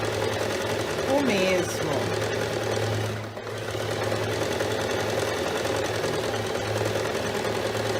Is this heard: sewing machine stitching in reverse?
yes